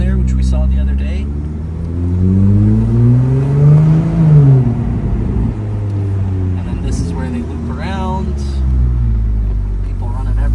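A Ferrari driving the Monaco F1 street circuit, its engine rising and falling through rev sweeps and gear changes, loud and close, with a person talking over it.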